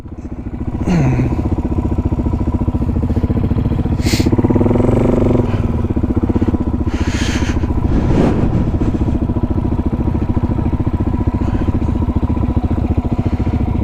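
A motorcycle engine idles steadily and then pulls away under light throttle as a learner rider takes off on a ride near the Wynoochee Dam, with a continuous close engine drone and brief revving swells throughout.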